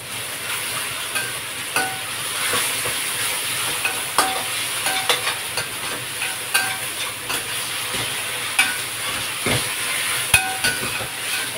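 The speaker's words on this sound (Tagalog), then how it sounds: "pwede na natin ilagay yung minced pork natin" Minced pork frying in a pan for spicy eggplant, a steady close sizzle broken by repeated sharp clacks and scrapes of stirring throughout.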